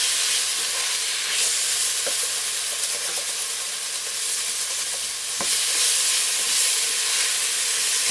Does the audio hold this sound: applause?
no